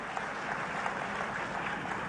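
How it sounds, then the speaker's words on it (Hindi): A seated crowd at a Bhopal self-help group event with the state chief minister claps steadily, a dense even patter of many hands at moderate distance with no break. "तालियां बजा के उन दीदियों का भी आप लोग स्वागत करें।"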